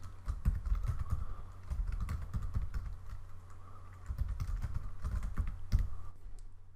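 Quick bursts of keystrokes on a computer keyboard as a name is typed, close and clicky, with short pauses between runs and a faint low hum underneath.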